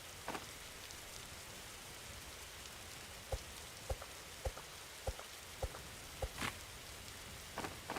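Rain falls in a video game, a soft steady patter of drops with a few sharper isolated hits spaced through the quiet wash, fairly faint and without voices.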